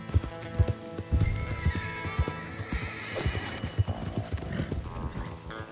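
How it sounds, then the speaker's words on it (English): Horse hooves clip-clop in a steady, busy rhythm, mixed with neighs and whinnies over a dense Red Dead Redemption 2 game soundscape with music. "Come on, horses."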